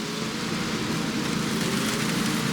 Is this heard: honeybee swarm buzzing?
no